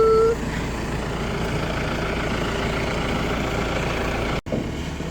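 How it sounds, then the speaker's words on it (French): Farm tractor engine running steadily at idle, a loud, continuous low rumble throughout with a faint whine early on, cutting off abruptly near the end before resuming. "Lil Wen a fait un tour de tracteur, la petite nièce"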